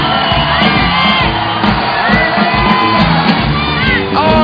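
Spectators at a women's bouldering World Cup final in Log Dragomer, Slovenia, shout, whoop and cheer on a climber, a loud close crowd of overlapping yells and whistles sustained throughout.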